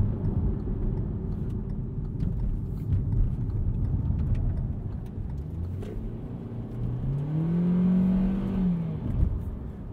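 A 2020 Hyundai Venue SEL engine climbs in revs as the car accelerates. A steady cabin drone gives way to a rising whine that swells and then tapers near the end, with no voices.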